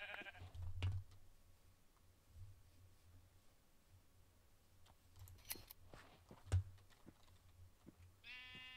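A brown sheep bleating in a blocky survival video game, a few short distant bleats scattered over quiet background with faint clicks, ending with a brief tonal chime.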